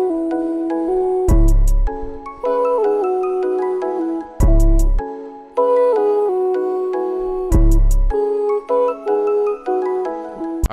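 Pitch-corrected vocal track in Logic Pro X, a sung melody with steady, stepped notes in short phrases separated by brief gaps and sharp percussive hits, clear and upfront.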